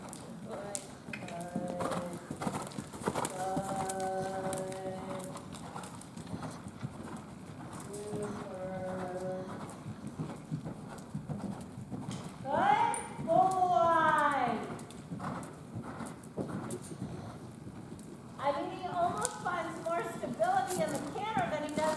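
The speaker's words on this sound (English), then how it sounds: "Let him trot like that forward." A ridden horse trots forward in an arena, its hoofbeats a soft rhythmic clip-clop under a person speaking, with occasional bird calls in the background.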